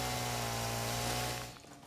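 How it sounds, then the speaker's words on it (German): A chainsaw in the video game Satisfactory runs as a steady, loud, buzzing drone with a fixed pitch for over a second, then quickly fades away. "Hier ist doch schon wieder ein Job für die Kettensäge."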